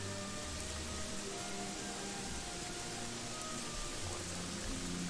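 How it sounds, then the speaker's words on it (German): Heavy rain in the video game Gothic 3 falls as a dense, steady hiss of drops on surfaces, continuous and even throughout with a low rumble underneath and no voices. "der Regen ist stärker geworden"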